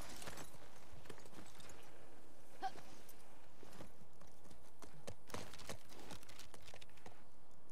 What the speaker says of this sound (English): How are you going, horse?